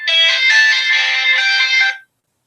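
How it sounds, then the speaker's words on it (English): A bright electronic ringtone from a telephone with an incoming call, loud and close. It plays as one continuous warbling burst for about two seconds, then stops abruptly into silence. "Oh, we've got a phone call."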